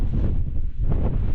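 Strong wind roars across the mountains of Snowdonia, buffeting the microphone with a constant heavy rumble that swells and eases without any break.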